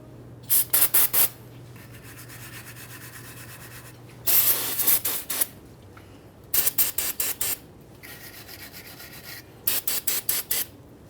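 Wire brush or sandpaper scrubbing the brake caliper mounting area on a 1994-2001 Dodge Ram 1500 front brake, heard as four bursts of rapid rasping strokes separated by short pauses, close and fairly loud.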